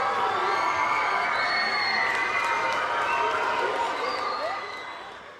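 Elementary school students clap and cheer in a crowd, with shouts and whoops over sustained applause that holds steady and then fades toward the end.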